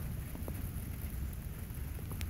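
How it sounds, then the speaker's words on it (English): Steady rain hisses over a low rumbling backdrop, with a few scattered louder drops, and no voices. "And here comes the rain again."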